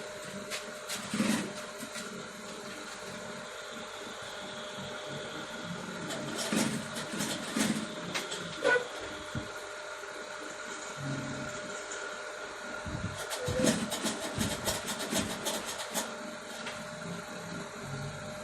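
A sewing machine runs in several bursts while stitching piping onto a Senator top, a steady close mechanical whir with pauses between runs and a quieter hum beneath.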